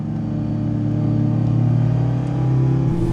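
Lamborghini Huracan and a twin-turbo Audi R8 in a street race roll, engines droning loudly and building in a deep rumbling pull, rising near the end, with no talk.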